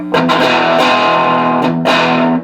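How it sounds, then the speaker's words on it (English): A loud, sustained distorted electric guitar tone rings out through a Magnatone Starlite amp, with a few chord strikes renewing the gritty, saturated sound. "It's really more of a distortion effect"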